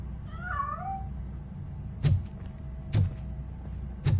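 A single short cat meow in the video game Robocop Rogue City, followed by three heavy, evenly spaced thudding footsteps.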